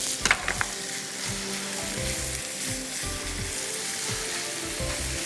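Beef undercut for a basil and mushroom dish stir-fries in hot oil, a steady close sizzle with a few sharp clinks of a utensil at the start and intermittent scraping as it is stirred.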